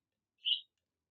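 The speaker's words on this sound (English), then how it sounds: "I'm going to have birds chirping." A pet bird chirps once inside a house, a single brief, high tweet with silence around it.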